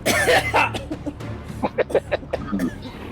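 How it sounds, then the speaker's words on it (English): Someone coughs several times in quick, raspy bursts, close to the microphone, with a bit of throaty noise between the coughs. "I can't tell if that cough is in character or not."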